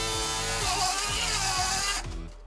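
A slot car wheel spins against rough sandpaper on a truing tool, a steady close motorised whine with rhythmic grinding pulses that cuts off near the end.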